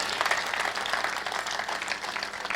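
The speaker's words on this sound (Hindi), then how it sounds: "कविता समाप्त हो गई है, तालियां बजाइए" An audience at a kavi sammelan poetry gathering in Gurgaon claps in a dense, continuous burst of applause, steady and moderately loud, with no one talking over it.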